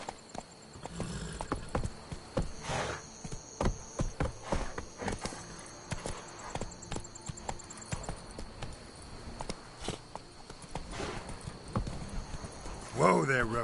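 Hooves of Roach, a horse in a video game, clip-clop steadily along a hard path. The footfalls form an even rhythm of moderately loud, close strikes, with talk over them and a brief whinny near the end.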